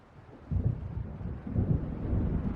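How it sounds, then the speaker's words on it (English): Deep rolling thunder from an approaching storm in the video game Alan Wake Remastered, low rumbles swelling in two broad waves over steady wind-like noise, with no voices. "It seems there's a storm coming."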